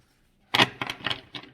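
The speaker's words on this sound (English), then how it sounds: "I'm shuffling the cards in a different way while my shoulder is sore" Tarot cards being shuffled by hand in a gentler, altered way, a close dry riffling burst followed by several quick papery flutters and taps, alone without talk.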